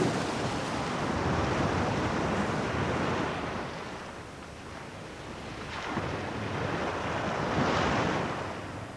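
Sea waves roll and break in a continuous wash of surf, rising and falling in broad swells with wind-like hiss, steady and fairly close with no voices.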